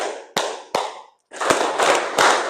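Patterned hand clapping from a class in a school guidance lesson: two separate sharp claps, a brief pause, then a quick flurry of close, loud claps in short bursts.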